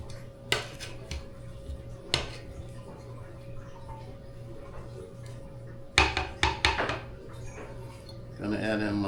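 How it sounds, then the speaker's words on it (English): Boiled potatoes being mashed in a pot, heard as a few sharp knocks and scrapes of the masher against the metal, spaced apart with quieter gaps between, then a denser burst of clatter near the end. "gonna start mashing the potatoes up"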